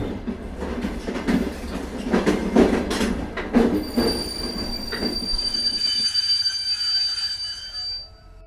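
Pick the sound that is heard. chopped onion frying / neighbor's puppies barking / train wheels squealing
train wheels squealing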